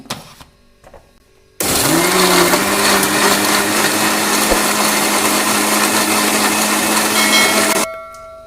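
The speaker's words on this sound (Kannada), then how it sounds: "ಮಿಕ್ಸರ್ ಮಾಡ್ಕೊಂಬರ್ತೀನಿ" After a quiet start, a mixer grinder blending watermelon with water switches on with a loud, steady whirring hum for several seconds, then winds down.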